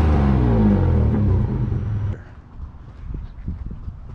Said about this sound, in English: one of the last times I drive my Class A diesel pusher